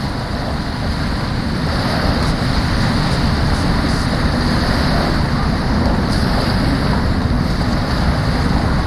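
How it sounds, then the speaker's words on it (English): Steady roar of wind and surf at Poole Harbour, where a Brittany Ferries ferry arrives from Cherbourg. The sound is constant and broadband with no distinct engine note, dominated by wind buffeting the microphone. "And there we have the Brittany ferries coming in."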